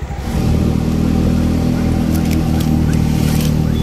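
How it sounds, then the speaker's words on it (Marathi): An auto rickshaw climbs the uphill road toward the Ekvira temple, its engine droning loud and steady close by once it picks up after the first half second, with no talk. "तर गाईज आता आम्ही रिक्षा केली वर जाण्यासाठी"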